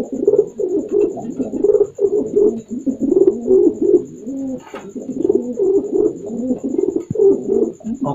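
Pigeons coo in courtship, a male calling in repeated soft throaty rolls with short pauses between them, close and clear over a faint steady high tone.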